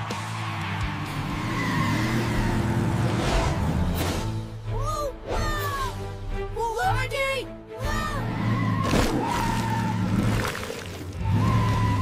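Cartoon monster trucks racing against Sonic, with revving engines, tire squeals and whooshing effects under a busy music bed, while voices call out over the action.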